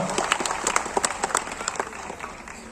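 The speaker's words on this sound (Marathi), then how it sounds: "एक वार कांबळी सरांसाठी जोरदार आपण सर्वांनी टाळ्या वाजूया" Audience clapping at a government primary school gathering in Sawantwada, a dense burst of applause with sharp individual claps that rises and then gradually thins out over a few seconds.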